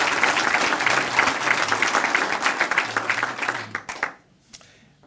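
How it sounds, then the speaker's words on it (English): Applause for a city council during a mayoral speech, a dense burst of crowd clapping that holds strong for about four seconds before quickly dying away into near silence. "a round of applause for our city council"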